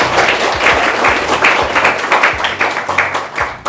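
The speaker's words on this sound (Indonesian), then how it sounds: "Boleh beri tepuk tangan yang meriah" Loud, dense audience applause fills a hall at a gathering for the FKDB organization, a steady wash of many hands clapping close by that holds unbroken for the whole stretch.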